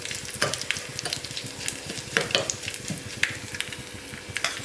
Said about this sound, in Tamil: இப்போ நல்லா வதக்கிக்கணும்.